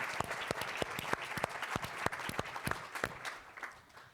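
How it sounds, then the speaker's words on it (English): An audience applauds a professor being introduced at a district conference, a dense, steady round of clapping that carries on for about four seconds before tapering off slightly at the end. "Please give a round of applause for Professor James."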